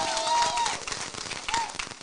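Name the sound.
audience applause at town hall meeting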